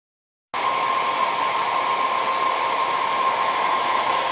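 A hair dryer on its cool setting switches on and blows steadily at flowers with a constant airy whoosh and faint whine, close and loud.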